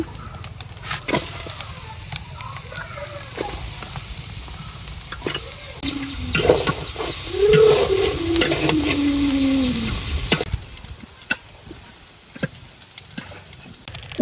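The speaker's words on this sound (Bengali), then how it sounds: "মশলাটা কষানো হয়ে গেছে, এবার থোরটা দিয়ে দিতে আছি।" Chopped banana stem tipped into a pan of sautéed spices with prawns, turmeric and chili powder, giving a steady close sizzle with stirring scrapes and clatter that swells loudly midway, then settles back to a low fry.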